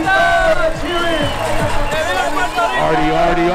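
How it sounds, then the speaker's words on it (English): Dense crowd noise at a Puerto Rican Day Parade in the Bronx, with steady loud cheering, whoops and hubbub filling the air, broken by scattered shouts, while an amplified voice carries over the din. "Please give them a round of applause."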